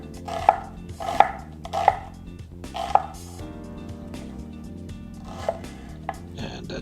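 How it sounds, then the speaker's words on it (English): A knife slices onions on a cutting board for onion soup, a handful of sharp, separate chops spaced irregularly, close and fairly clear over a soft background with music-like tones. "cut the onions, you want to cut it in half and then slice it approximately 1/4 of an inch or a little less"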